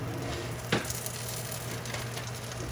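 A quesadilla sizzles steadily in olive oil in a skillet, a dense continuous hiss with one brief sharp crackle early on, close and alone with no talk.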